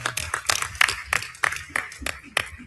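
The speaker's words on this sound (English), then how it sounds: "Y'all, we can clap for that." Scattered clapping from an audience at a convention speech, irregular claps of moderate loudness, briefly breaking out as the crowd answers the speaker.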